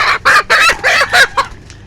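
Several loud, close calls from free-range village chickens come in quick succession, a run of clucking squawks that trails off into a faint final cluck.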